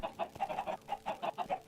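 A Minecraft chicken clucks quickly in short repeated bursts, a fairly faint, rhythmic series of clucks with no talking over it.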